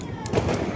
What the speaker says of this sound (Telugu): భూచక్రం అయితే వేస్తున్నాడు